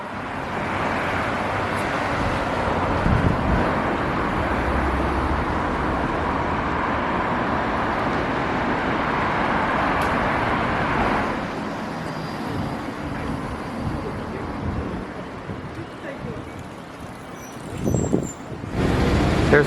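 A diesel city bus rolls past on a road in Amanohashidate, Japan, its broad engine and tyre roar loud and steady for about eleven seconds before easing off, with traffic noise and a brief thump near the end.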